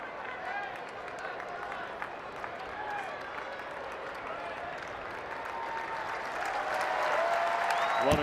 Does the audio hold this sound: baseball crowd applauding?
yes